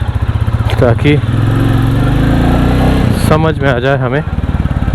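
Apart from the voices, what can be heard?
Royal Enfield Bullet 350 motorcycle engine running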